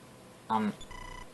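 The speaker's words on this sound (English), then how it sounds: "Telephone. Please get your telephone." A telephone rings in the NES game EarthBound Beginnings, played on Wii U: a short electronic ring burst, then a steadier tonal beeping pattern, with no talk over it.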